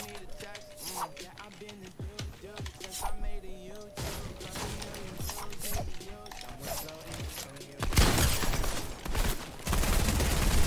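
Pump shotgun shots in the video game Fortnite at Halloween, sharp repeated blasts and clattering game effects with bursts of louder noise near the end, mixed with someone talking.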